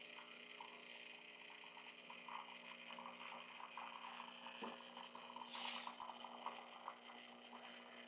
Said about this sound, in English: Yeah, get some hot water there.